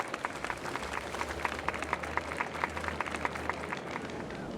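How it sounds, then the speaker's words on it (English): Steady applause from a festival crowd in the video game Honkai: Star Rail, dense clapping that keeps going throughout at a moderate level with a low hum underneath. "We invite you to express your warmest applause and deepest appreciation for Oti Alfalfa, head of the..."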